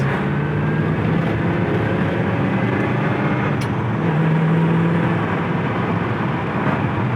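Ford Mustang GT coupe with a small-block V8, four-barrel carburetor and four-speed manual cruising on a highway over rough pavement, a constant loud engine drone and road rumble with no talking.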